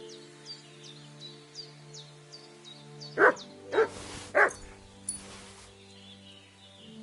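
Dog in the Kingdom Come: Deliverance 2 video game gives a few sharp, close barks in an uneven burst over a quiet ambient bed with chirping birds, then fades back to the soft background.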